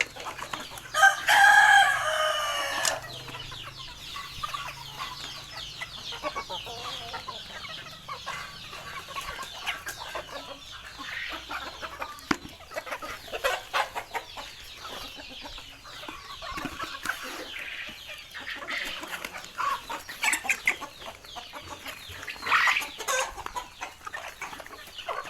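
Mixed-breed fighting roosters on a farm, one crowing loudly and close at the start, then scattered clucks and calls from several birds throughout.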